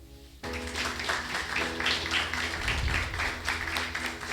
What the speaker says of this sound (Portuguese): Aplauda essa verdade.